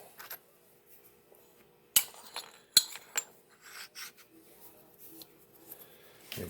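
A file or deburring tool rasps in short, irregular strokes over a small metal lead screw bearing mount for a lathe build, with quiet gaps and a few sharper clicks of metal contact, close and fairly faint.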